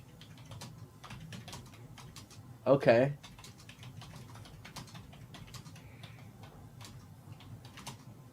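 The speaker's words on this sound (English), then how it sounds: "The aggressive typing." Fast, forceful typing on a computer keyboard clatters as a steady stream of small taps under a conversation, with a brief louder burst of talk partway through.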